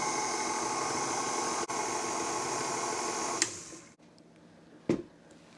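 An electric mixer runs on low through sweet potato pound cake batter, giving a steady mechanical whir that holds close and even for about three and a half seconds. It then cuts off, leaving near silence and a couple of small clunks.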